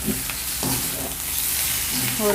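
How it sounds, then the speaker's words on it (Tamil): Coriander mixed into spicy Andhra-style Guntur chicken frying in a pan, giving a continuous sizzle with soft scraping stirs and spoon taps. "இந்த கொத்தமல்லி வந்து லைட்டாக எல்லாத்துலேயும் இருக்கிற மாதிரி நம்ம மிக்ஸ் பண்ணிக்கலாம்"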